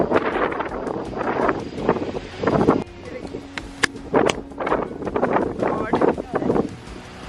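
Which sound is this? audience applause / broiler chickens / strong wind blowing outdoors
strong wind blowing outdoors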